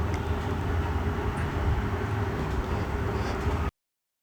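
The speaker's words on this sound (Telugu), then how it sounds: "ఇప్పుడు నేను ట్రైన్లో వెళ్తూ ఉన్నాను, స్లోగా వెళ్తుంది ట్రైన్." A train moving slowly past a city, beach and forest in Vizag gives a steady low rumble and rolling noise that continues without pause before cutting off abruptly.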